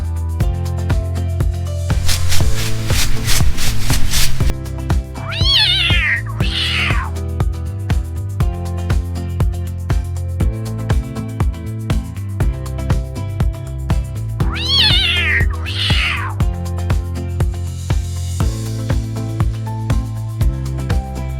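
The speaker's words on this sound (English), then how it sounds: "Cat goes meow." A cat meows twice, loud and close, with rising-falling cries standing out over a steady backing music bed, after a bright chiming burst.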